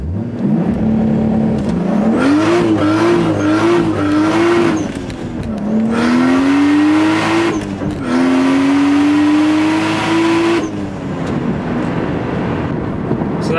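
A Toyota Supra makes a launch-control start on the street, its engine revving loud and close with rising pitch through several gear changes and a brief lift in between.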